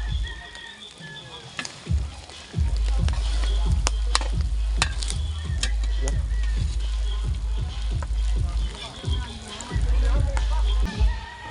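Dinuguan, a pork blood stew, cooking in a Batangas kitchen on the eve of a wedding, with a steady loud sizzle, repeated stirring scrapes and sloshing, and faint background chatter.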